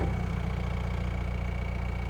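Engine of an M1161 USMC Growler vehicle idling, a steady low rumble with an even pulsing beat, close by and constant for the whole stretch, with no talking.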